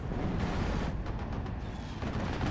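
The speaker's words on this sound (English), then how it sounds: "More artillery coming on in." Artillery fire in the World War II strategy game Steel Division 44, a dense, continuous rumble of distant shelling with overlapping thuds and crackles, steady and heavy throughout.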